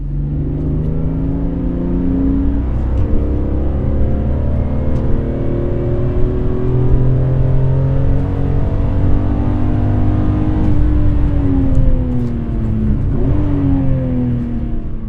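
A BMW E46 M3 with a six-speed manual pulls through the gears, its engine note rising and falling in several smooth sweeps with loud, close interior drone and road noise throughout.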